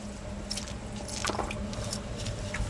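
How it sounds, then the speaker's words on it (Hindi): Lemon is squeezed onto a potato, badi, cauliflower and moringa vegetable dish, giving brief soft squishes and a few wet drips, faint and close over a steady background hum. "इसमें नींबू ऐसे स्पेशल तरीक़ा से डाल देता हूँ मैं"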